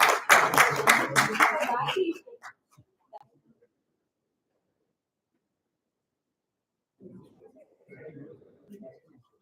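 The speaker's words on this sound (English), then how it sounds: "Let's give a thundering round of applause for contestants." Applause from a student audience for contestants at a school competition event, a dense burst of clapping for about two seconds that quickly dies away, followed by silence and later faint murmuring voices.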